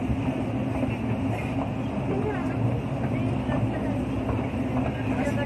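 A toy train runs at Nehru Zoological Park in Hyderabad with a steady, low mechanical rumble, while people talk over it.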